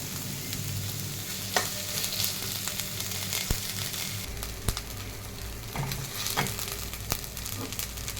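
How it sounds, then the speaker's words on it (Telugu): Onions fry in a pan, sizzling steadily at close range while a spatula scrapes and clatters against the metal in irregular bursts throughout. "ఆనియన్స్ ఫ్రై అవుతున్నప్పుడు"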